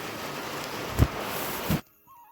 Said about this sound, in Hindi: अब देखिए बहुत ज़ोर की बारिश होने लग गई है।